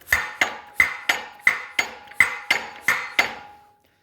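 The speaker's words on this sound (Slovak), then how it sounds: "hento kladivo, ono to zbíja a robí toto" A hydraulically driven hammer on an engine-powered machine pounds in eight sharp, evenly spaced metallic strikes about a third of a second apart. Each strike rings and decays before the next, and the last fades out alone.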